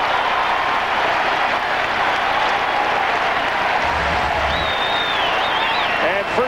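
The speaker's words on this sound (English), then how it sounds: "first time the Fenway fans have had something really to cheer about" Baseball crowd at Fenway Park cheering and applauding after a stolen base, a dense sustained roar of clapping and voices filling the whole stretch, with a few whistles rising above it.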